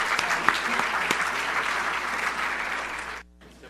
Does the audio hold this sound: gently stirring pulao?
no